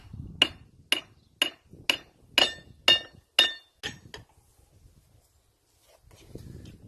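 Hammer blows on a hot steel hardy tool point being rounded into a taper at the anvil, about nine sharp ringing strikes in a steady rhythm, close and loud, then quiet.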